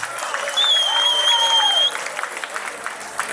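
An audience at a prison event claps in a dense, continuous patter, joined by a sustained whistle-like tone partway through, with a voice faintly present beneath.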